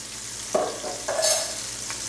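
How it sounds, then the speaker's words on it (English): Onions sautéing in a pan for mushroom pilaf, a steady close sizzle with a couple of brief stirring scrapes and clatters, no talking. "we're just going to saute our onions for a few minutes"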